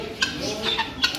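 Chickens of fancy breeds at a bird market give short clucks in a few separate bursts, close and fairly clear over a steady background of market noise.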